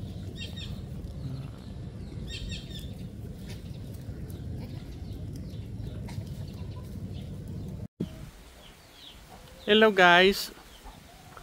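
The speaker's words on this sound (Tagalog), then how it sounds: "Mga manok natin doon" Chickens on a hot backyard farm in the Philippines cluck in a brief loud burst near the end, after a long stretch of steady outdoor noise and a short greeting.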